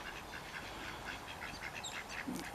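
Domestic ducks quack repeatedly at a pond, steady rhythmic calls at moderate distance over a constant background hiss, no talking.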